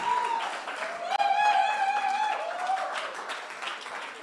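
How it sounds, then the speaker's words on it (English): An audience at a church photography masterclass applauds steadily for a named attendee, a sustained patter of clapping with a tonal voice or note rising briefly above it. "A round of applause for him,"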